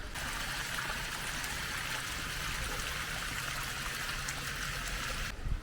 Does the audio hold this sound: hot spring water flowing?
yes